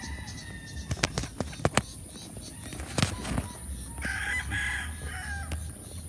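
A rooster crows amid clucking chickens on a big breeding farm in the Philippines, the call rising over a busy yard with sharp knocks and shuffling nearby, a voice talking now and then.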